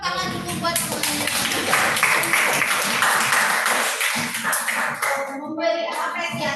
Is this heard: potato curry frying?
no